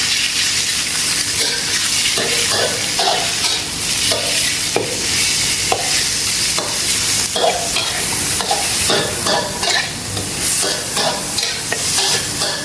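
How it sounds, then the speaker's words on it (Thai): Minced pork (about 200 g) is stir-fried with golden garlic in a wok for an asparagus and oyster-sauce dish, giving a steady close sizzle with repeated scraping strokes of the spatula throughout and no talking. "กระเทียมเหลืองหอมไปแล้วใส่หมูสับ สองขีดหรือสองร้อยกรัม ลงไปผัดให้สุกเลยนะครับ"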